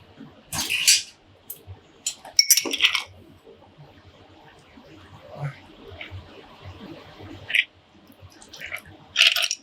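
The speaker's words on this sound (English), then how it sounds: "we want to make sure we're sufficiently stirring" Ice clinks and rattles against glass in short bursts while a Vieux Carre cocktail is stirred, close and fairly quiet, with a soft liquid swish between the clinks.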